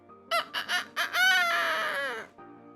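A crow mimics a rooster's crowing: a few short clucking notes followed by a drawn-out crow-like call, close and clear against a quiet morning background.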